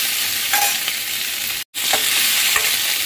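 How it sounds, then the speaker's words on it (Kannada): Capsicum pieces sizzle steadily in a hot pan, half-cooked rather than softened, with a few soft stirring scrapes and one brief drop to silence partway through. "ಒಂದು ಸ್ವಲ್ಪ ಅರ್ಧಂಬರ್ಧ ಬೇಯೋಷ್ಟು ಫ್ರೈ ಮಾಡಿ ಇಟ್ಕೊಳ್ತಾ ಇದ್ದೀನಿ."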